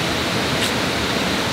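A waterfall gives off a continuous, even rushing hiss of falling water, loud and steady throughout with no voices.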